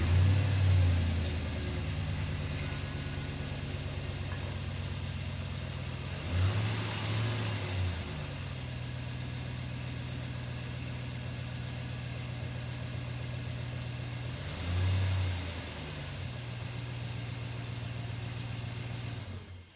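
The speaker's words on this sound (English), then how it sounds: "Let's start up the truck and see how it sounds." A 2005 Chevrolet Avalanche truck engine fitted with a K&N cold air intake runs close by, idling steadily with a low drone and rising in short revs three times over about twenty seconds, with no talk.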